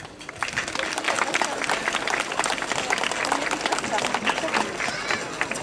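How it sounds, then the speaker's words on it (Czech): Audience applause at a key handover ceremony, a thick, sustained burst of many people clapping close by, steady and lively for the full stretch. "Zatleskáme."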